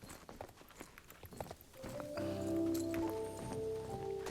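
A pony's hooves trotting in the video game Star Stable Online: rapid soft clip-clop footfalls at a steady pace, followed by a sustained tonal game music swell with layered notes, moderately loud.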